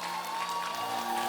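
Graduation ceremony audience at Knox College breaking into steady, dense clapping, a sustained wash of applause from a crowd with a faint tonal hum underneath.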